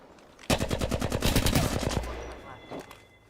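Gunfire in the video game Apex Legends: a sudden, loud, rapid automatic burst of close shots lasting about a second and a half, trailing off, followed by a brief later sound.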